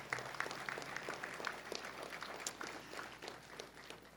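Faint, distant applause from a crowd at a regional fire and rescue training center ceremony honoring firefighters, scattered claps heard over a low background hum with no voices.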